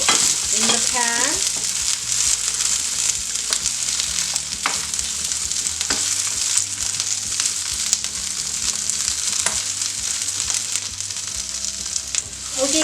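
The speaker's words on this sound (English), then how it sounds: "I'm just going to go ahead and add my pepper, and I'm just going to let that kind of cook in the pan." Pepper sautés in a pan coated with cooking spray, giving a loud, continuous close sizzle with occasional stirring clicks and scrapes over the steady frying hiss.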